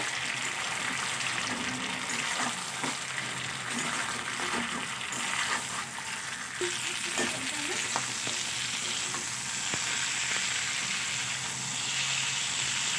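Five mixed vegetables with bori, onion greens and brinjal fry in a pan, a loud continuous sizzle running throughout with occasional stirring scrapes beneath.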